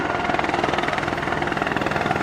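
Apache attack helicopter at an air day finale, its rotor thudding in a steady rapid pulse over a broad engine roar, loud and close throughout.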